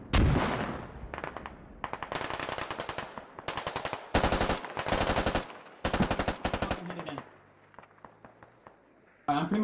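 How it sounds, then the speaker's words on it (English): In the war video game Squad, repeated close bursts of automatic gunfire and heavier mortar impacts crackle in rapid clusters with short pauses, under occasional voices. "British mortars. Coming in."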